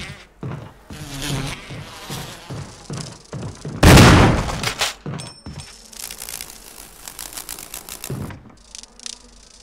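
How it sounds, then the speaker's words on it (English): Bees buzz in the video game Resident Evil Remake, a loud swelling drone that peaks midway among other game sounds and clatter. "the only thing I haven't done is subject myself to the bees"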